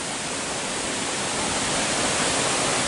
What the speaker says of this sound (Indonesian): kami pun melihat air terjun di balik bebatuan dan pepohonan tersebut